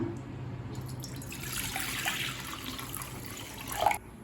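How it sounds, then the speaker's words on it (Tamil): Water is poured into a pan for making creamy vermicelli payasam, a trickling, splashing stream that runs for a few seconds and ends with a brief louder splash. "தேவையான அளவு தண்ணி சேர்த்துக்கலாம்."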